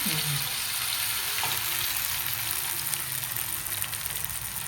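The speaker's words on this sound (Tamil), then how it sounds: "மீன் பொரிச்சிடலாம்" Parrotfish frying in hot oil in a pan, a dense, steady sizzle close by and fairly loud throughout, with faint scraping underneath.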